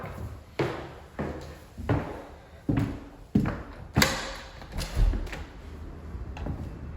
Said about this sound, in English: Deadbolt on the door.